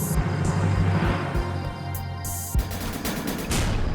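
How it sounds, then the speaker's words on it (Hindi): Rapid bursts of gunfire shot into the air ring out loud and close, a few sharp reports in quick succession over a dense, steady background noise. "मैं दूसरी तरफ जाता हूं, उससे हवा में फायर करूंगा।"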